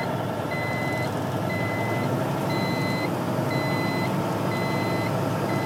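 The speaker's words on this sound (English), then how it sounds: "that warning buzzer should stop sounding" A truck's low air pressure warning buzzer sounds in repeated evenly spaced pulses over the constant low rumble of the idling truck engine.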